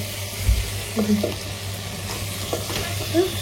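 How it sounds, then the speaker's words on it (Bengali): Masala stir-fries in oil in a pot with a soft, steady sizzle. Intermittent scraping strokes come from the stirring, and the sound stays close and moderately quiet. "দেখুন, মনে হচ্ছে একদম কষানো হয়ে গেছে, তাই না? তেল তো যেটুকু দিয়েছি তেল বেরিয়েই এসছে।"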